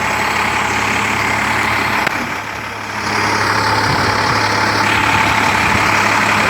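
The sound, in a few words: fire truck engine starting and idling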